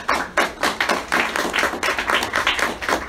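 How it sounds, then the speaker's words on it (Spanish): An audience claps to welcome guest speakers at an evening talk in an art gallery, distinct rapid hand claps close by, steady and fairly loud throughout without talk. "recibámoslos con un fuerte aplauso"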